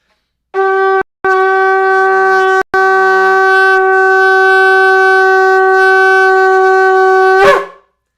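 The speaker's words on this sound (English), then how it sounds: "So if you blow a long blast on a kudu shofar," A kudu horn shofar sounds a long, steady, brassy blast, briefly broken twice near the start, then held for several seconds before cutting off.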